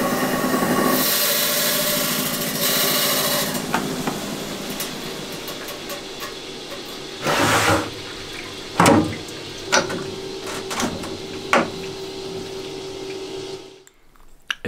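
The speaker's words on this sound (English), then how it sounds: "First agate is in the saw and ready to be cut." A rock saw grinds steadily through a Bulgarian agate, giving a loud, sustained whine with watery hiss from the coolant. Occasional knocks and bumps break through before the blade stops abruptly near the end.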